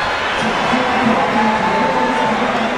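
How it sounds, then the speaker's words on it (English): A large indoor college basketball crowd applauds and cheers in a steady, dense wash of sound, with a few voices rising above it, at a Howard versus North Carolina Central game. "getting a round of applause"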